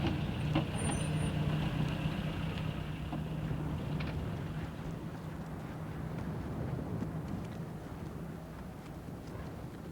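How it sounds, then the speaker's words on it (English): Trucks driving in Oman, a continuous loud engine rumble with a steady low drone and faint hiss, close and unbroken across the clip. "Today in Oman, the trucks carry game wardens and biologists."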